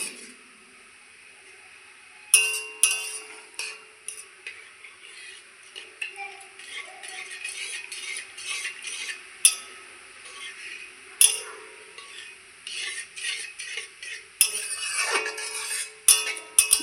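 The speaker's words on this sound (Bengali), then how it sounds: "আমি 1 বাটি সুজি নিয়েছি, 2 বাটি দুধ দিয়ে দেব। ভালো করে একটু নেড়ে দেব, নয়তো দলা পেকে যাবে।" A spoon scrapes and clinks against a pan while semolina is stirred with milk over low heat, producing irregular, fairly close tapping and scraping strokes with quiet gaps between them.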